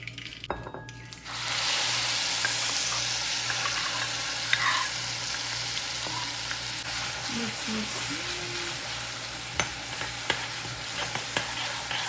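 Mustard seeds and chutney sizzle and crackle in hot oil after a brief quiet start, a steady loud frying hiss with occasional pops and a few clinks of a utensil against the pan, close up.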